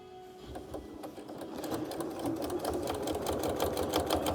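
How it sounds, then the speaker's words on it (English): A sewing machine stitches in the ditch along the patchwork seams of a quilt, its close, rapid needle chatter running steadily and growing denser and slightly louder as it goes, with no talking. "I'm just stitching in the ditch on this quilt"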